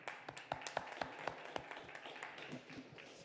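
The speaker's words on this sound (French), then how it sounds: "on peut applaudir cette réalisation" A small audience at a conference on low-carbon building and renovation gives a short round of scattered applause: distinct individual claps that are sharp at first, then thin out and fade.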